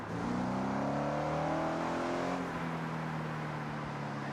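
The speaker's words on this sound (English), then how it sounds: "I like the induction sound that the engine makes." A police interceptor car in Forza Horizon, with a 6,500 RPM redline, gives a steady, loud induction whine and engine drone that climbs in pitch, then eases off and settles to a lower hum.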